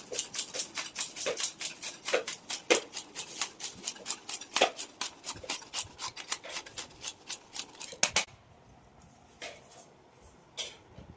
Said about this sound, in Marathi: हे असा किस किसायचा